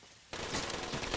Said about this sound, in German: Thompson einfach feuerfrei.